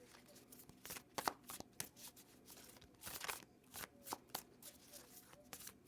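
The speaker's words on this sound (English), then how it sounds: "I'm going to pull some more cards on this really quick." Close, quiet shuffling of tarot cards with repeated papery riffles and flicks in irregular bursts, then cards being pulled from the deck, with no voices.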